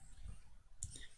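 A computer mouse clicks once, quiet and close, while parts of a piston crank shaft assembly are modelled in FreeCAD. A soft background hush surrounds the click.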